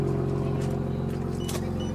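A Jeep Gladiator with a Flowmaster Outlaw Extreme exhaust idles with a steady, low, subtle burbling rumble, close and continuous for two seconds, with no talk.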